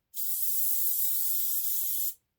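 A single continuous hiss from a spray paint can coating a pumpkin, about two seconds long, close and steady, starting and stopping abruptly.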